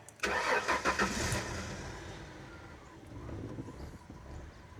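A 1996 Mercury Cougar XR7 with 109,000 miles cranks and catches after sitting for years, then settles into a rough, uneven idle, loud and close with no talk.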